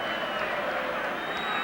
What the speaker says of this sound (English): Applauds the crowd here,